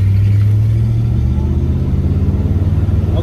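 A 1972 Ford LTD pulls away from a red light, its engine giving a loud, close, low rumble that swells steadily as it accelerates, with no talking.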